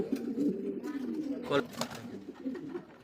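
Soft, low cooing of Danish Rajgolla pigeons repeats close by, with faint human voices mixed in.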